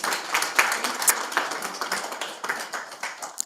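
Audience at a medical society's annual general and scientific meeting claps hands, a moderately faint, scattered patter of applause lasting a few seconds with no talking over it.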